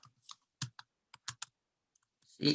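Keys on a computer keyboard are struck while Thai text is typed, giving a handful of separate, crisp clicks spaced apart, with short silent gaps and a louder cluster of keystrokes at the end.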